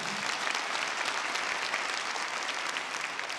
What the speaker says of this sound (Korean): 여러분 힘찬 격려와 축복의 박수 보내주시기 바랍니다